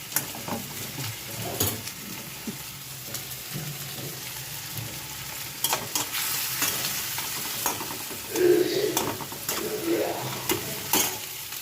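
Onions frying in oil in a home kitchen pan, a continuous soft sizzle with occasional stirring scrapes and clinks, close and fairly quiet, no talking.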